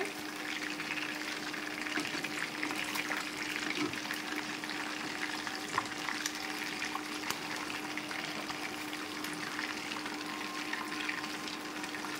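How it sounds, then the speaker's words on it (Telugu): Fish pieces fry in hot oil in a home kitchen, giving a steady, dense crackling sizzle that holds at an even level throughout, with no talking. "ముక్కలు రెండో వైపును కూడా వేగాయి."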